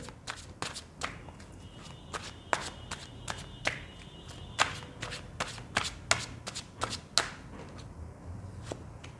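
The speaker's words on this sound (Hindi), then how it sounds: "जब तक मैं कार्ड शफल करती हूँ" Tarot cards are shuffled by hand up close, a rapid run of crisp riffling snaps and slaps repeating about every half second with no talking.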